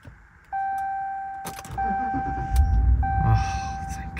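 A 2019 Ram 1500 pickup with a newly replaced starter beeps with a sustained electronic chime, then the engine cranks and catches, settling into a rising idle rumble close to the microphone.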